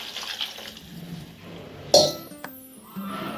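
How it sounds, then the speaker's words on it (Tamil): Water poured into a pan of sautéing vegetables while cooking a home-style vegetarian lunch: a quiet sizzle gives way to a sudden splash and hiss, then a softer bubbling simmer. "இப்போ இதில் நான் தண்ணி சேர்த்துக்கிறேன்"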